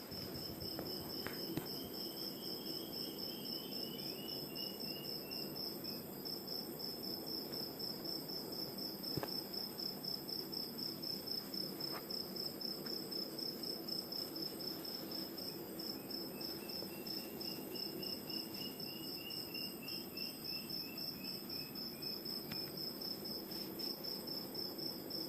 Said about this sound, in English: Can you hear the cricket?